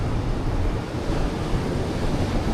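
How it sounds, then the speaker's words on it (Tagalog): Strong ocean waves breaking on the Sydney coast: a loud, continuous roar of surf with wind buffeting the microphone, steady and close, with no talking. "Malakas ng alon!"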